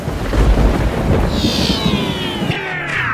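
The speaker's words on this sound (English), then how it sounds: "A terrible storm is approaching." Thunder from an approaching storm rolls in as a loud, deep rumble, with a lighter hiss like rain layered over it throughout.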